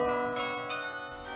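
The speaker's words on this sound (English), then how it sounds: "The campanile at KU features 53 bells that chime every 15 minutes." Carillon bells in the University of Kansas Memorial Campanile, a 53-bell instrument, ring a few fairly faint, resonant strikes in quick succession, each note ringing on into the next, with no voices.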